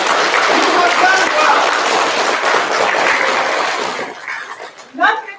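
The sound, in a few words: students clapping for themselves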